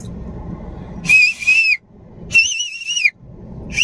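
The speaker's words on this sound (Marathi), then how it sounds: "आमचा आवाज बाहेर जातोय का नाही आम्ही बघण्यासाठी शिट्टी मारली" Two loud, close, shrill whistle blasts, each about a second long with a wavering pitch, separated by rumbling background noise, with a third starting at the end.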